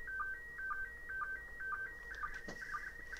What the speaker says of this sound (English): So this is another picture being transmitted by the ISS as it passes over Europe.